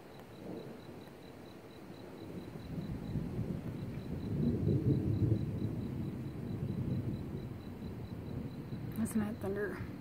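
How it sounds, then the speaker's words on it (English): Distant thunder from a gathering storm rolls low and broad under outdoor ambience, swelling midway and fading, while a person talks nearby. "That thunder."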